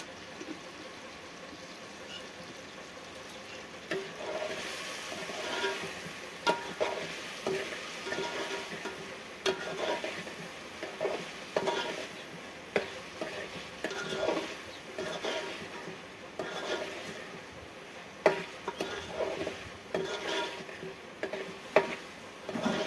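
A vegetable curry cooks in a pan with salt and sev. Steady sizzling and frying run throughout, broken by repeated scraping stirs that grow more frequent in the second half, with no talk.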